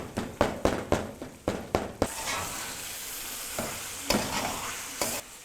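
Tomatoes are stirred into hot oil in a pan for a chicken karahi. A quick series of sharp utensil knocks comes first, then a broad, hissing sizzle swells up, with a few more scrapes near the end.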